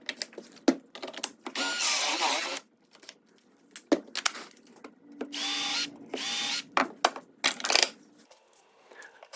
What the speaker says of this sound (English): you can take your Forstner bit all the way through